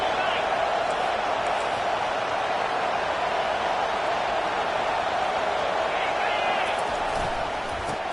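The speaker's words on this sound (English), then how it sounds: "And here comes the noise. This crowd is trying to inspire this defense to make a big red zone stop." Roaring football stadium crowd urging on the defense during a red zone stand, a dense, continuous wall of noise at steady loudness from start to finish, with a commentator's voice over it.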